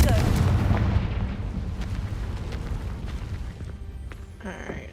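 A booming blast from an explosive spell in a video game, loud at the start and rumbling away over several seconds, with scattered crackles and a faint tone at the tail.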